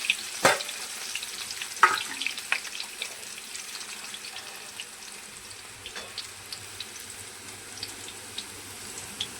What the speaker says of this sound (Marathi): दोनच मिरची मी केलेले बारीक कापून घेतलेले आहे, आणि त्याचे थोडं एकदम असं कडक क्रिस्पी होतं तळून घ्यायचे